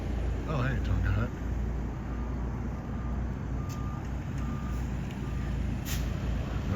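A vehicle reverses outdoors near Juneau on an Alaskan cruise stop, its backup alarm beeping steadily and evenly under a constant engine rumble, with brief voices early on.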